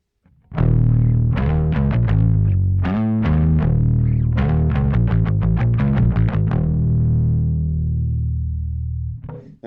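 Bass guitar through the drive circuit of a Darkglass Microtubes 900 amp, mids and treble flat and bass slightly boosted, playing a loud, gritty distorted riff of repeated plucked notes that rings on throughout.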